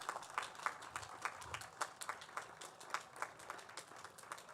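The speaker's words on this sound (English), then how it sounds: "let's give them a round of applause to show our gratitude" Sparse, faint applause from graduates for guests at a university commencement ceremony, scattered individual claps heard distinctly at a distance, thin and quiet throughout.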